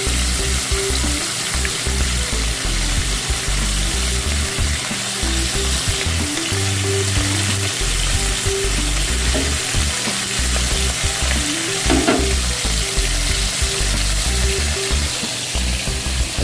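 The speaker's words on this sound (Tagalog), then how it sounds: "Haluin lang natin ang ating munggo. Kulong-kulo na siya." A pot of mung beans with beef bones at a hard boil, stirred; a loud, dense, continuous bubbling and sizzling roar with faint utensil scrapes running through, close up and without pause.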